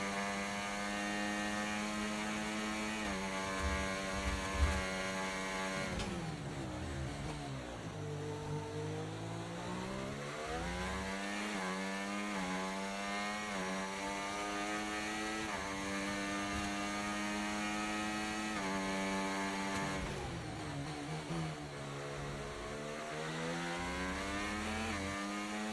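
A racing car in a video game holds sixth gear at low revs, its buzzy, harmonic engine note droning continuously and rising and falling gently in pitch. No voices.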